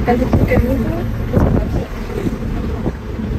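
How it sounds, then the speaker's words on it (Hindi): Wind buffets a microphone outdoors on the way home, a rough continuous rushing that swells and dips over a few seconds. "हवा चल रही है"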